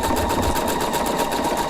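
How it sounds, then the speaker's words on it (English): A Husqvarna Viking sewing machine stitches lettering with a steady, close mechanical whir and a fast, even needle rhythm that runs unbroken from start to finish, with no talking. "So now I start to stitch."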